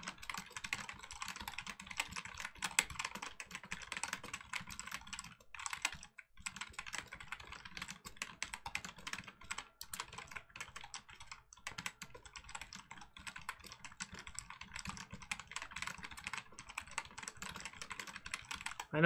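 Rapid, continuous typing clatters on a computer keyboard close to the mic for nearly twenty seconds, with a brief pause midway and no talking.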